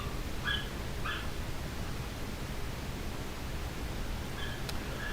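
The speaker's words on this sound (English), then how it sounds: "There goes my dogs as well." Dogs barking and whimpering in short bursts, somewhat distant, over a steady hiss of background noise; no one speaks.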